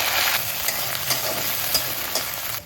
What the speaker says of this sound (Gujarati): લીલા મરચાં પલાળેલી મેથી એડ કરી અને 5 થી 10 સેકન્ડ એને સાંતળીશું